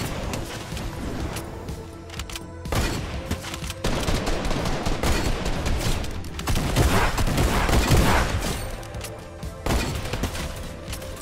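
Gunfire in Fortnite crackles through dense, continuous bursts of shots and impacts across the whole stretch, a loud game soundscape with no talking.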